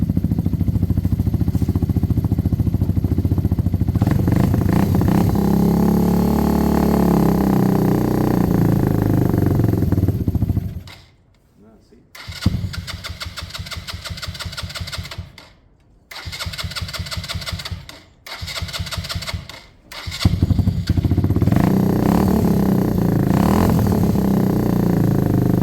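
A cold motorcycle that has sat all week starts and runs on full choke, a loud steady idle that stalls and cuts out a few times before restarting and settling into a warm-up run.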